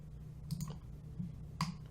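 A computer mouse clicks a few times while working in SolidWorks, giving soft, close, separate clicks over a quiet low background hum.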